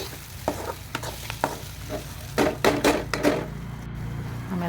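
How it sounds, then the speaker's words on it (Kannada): Paneer chilli is stirred as it fries in a pan, with scrapes and clacks of the spoon in irregular bursts over a continuous sizzle, close and fairly loud, without speech. "Hockey full mix ಮಾಡಬೇಕೆಲ್ಲ."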